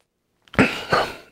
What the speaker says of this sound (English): where I can't stop coughing.